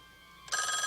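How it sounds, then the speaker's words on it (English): A telephone bell starts ringing abruptly partway through, a bright, loud, continuous electric ring after a quiet, faintly humming room. "And there's a phone ringing."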